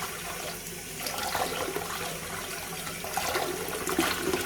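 Sea moss rinsed in a strainer under a running kitchen tap, a steady broadband rush of water splashing close by without pause, with no talk over it.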